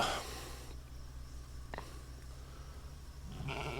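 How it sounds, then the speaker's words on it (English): Sheep on a hay farm with a thin nursing ewe, a short bleat near the start and another at the end, moderately near, over quiet outdoor background. "Where's the rest of the sheep, huh?"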